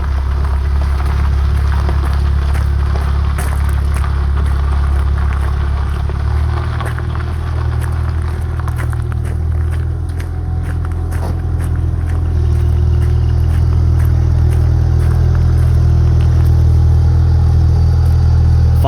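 A 1977 Toyota Celica with a five-speed gearbox, lowered and on new wheels, drives under its own power, its engine a steady low rumble that swells slightly as it pulls away, close and alone without talk.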